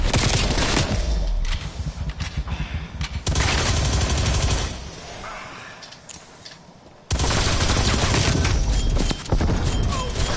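Gunfire in the Call of Duty Cold War video game, loud sustained bursts of rapid automatic shots that stop briefly midway and then resume, with faint voices underneath.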